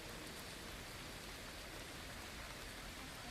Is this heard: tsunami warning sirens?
no